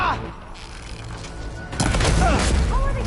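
Covering gunfire in the Horizon Forbidden West video game starts as a faint background rumble, then bursts into loud booming volleys with whooshing projectile sweeps over the last second and a half.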